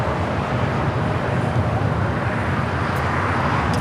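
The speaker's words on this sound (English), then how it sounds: "That is American Airlines 136 taking off to London Heathrow on the 777-300ER." An American Airlines Boeing 777-300ER taking off at LAX, a loud sustained broadband jet roar with deep rumble, steady and continuous through the whole stretch.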